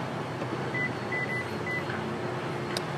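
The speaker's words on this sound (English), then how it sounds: "Two little beeps to let you know that it's moving, and then it'll beep again to let you know that it's finished" Short electronic beeps from a 2012 Lexus GX 460 4WD SUV as its powered rear headrests fold, a few quick faint chirps spaced apart over steady cabin background hum.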